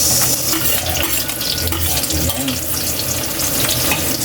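Sliced onions fry in a pan for Filipino pork igado, giving a loud, steady sizzle with stirring and scraping that runs the whole time, and no voices are heard.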